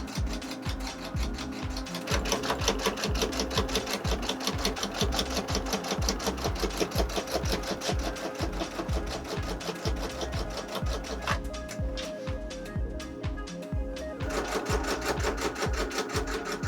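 A sewing machine runs a seam on a pleated cosplay skirt, its needle chattering in a fast, steady mechanical rhythm that continues throughout at close range.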